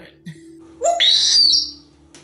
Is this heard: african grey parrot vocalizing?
yes